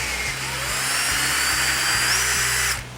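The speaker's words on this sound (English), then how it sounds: "I'm going to practice this on a decking board offcut to make sure the hole is the correct size for the" A power drill whines steadily and close as it bores a spotlight hole into a decking board offcut, running continuously for nearly three seconds before cutting off.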